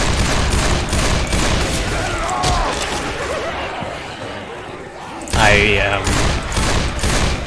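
Gunfire in Left 4 Dead 2 as zombies are shot, dense rapid shots under ongoing talk and laughter, with a loud burst near the end.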